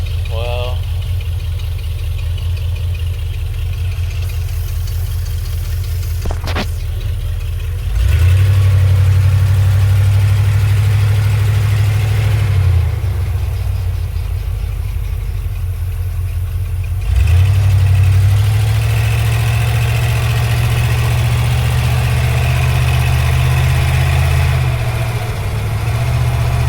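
A 1990 Ford E-150 Econoline van's 5.8L V8 with an E4OD automatic transmission that will not shift into 3rd or 4th, droning steadily while driving, swelling twice in long revving surges held in 2nd gear, close and loud.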